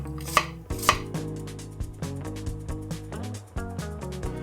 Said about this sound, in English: Slice a red onion like this and separate the pieces.